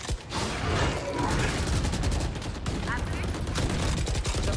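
Rapid gunfire rings out during a video game shootout, dense bursts of shots and mechanical clatter that go on throughout. A player talks over the firing.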